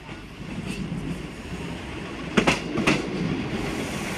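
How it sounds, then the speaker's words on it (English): East Midlands Class 158 diesel multiple unit at Sheffield station, heard as a steady rumble with a few sharp clickety-clack wheel beats over rail joints around the middle. "East Midlands train service from Norwich, Liverpool, Lime Street"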